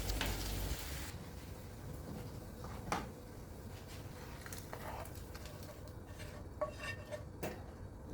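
Spice masala with dried fenugreek leaves roasting in a pan in a home kitchen, giving soft scraping and clinking of a utensil against the pan with occasional sharper taps over a low steady background.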